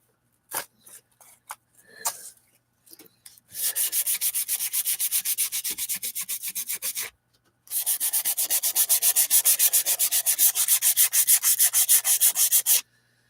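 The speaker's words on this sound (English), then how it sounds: "But with plastic, you gotta sand it." Sandpaper scrubbing a plastic surface by hand, a few short scratches followed by two long bursts of fast, rhythmic back-and-forth rasping, close and crisp, with a brief pause between them.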